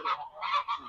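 An Embden goose gives a loud, close, nasal honk in three quick connected bursts lasting about a second.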